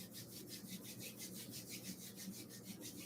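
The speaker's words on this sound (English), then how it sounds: "rub your palms together" Two palms rub together briskly in a quiet room during a yoga session, making soft, rhythmic swishing strokes that repeat evenly and faintly for several seconds.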